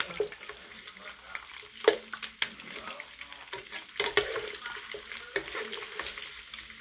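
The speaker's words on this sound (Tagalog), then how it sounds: "Pinapa-brown-brown ko lang siya ng kaunti" Chicken pieces sizzle and brown in a hot pan for a 7up chicken dish, with a steady frying hiss punctuated by scraping stirs and clacks of a utensil, and no one talking.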